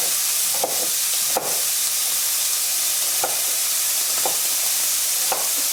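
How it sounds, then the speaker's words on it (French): Bacon lardons sizzle and fry in a pan, a steady close hiss with a few brief stirring clatters spread through the stretch. "Les lardons sont en train de rissoler."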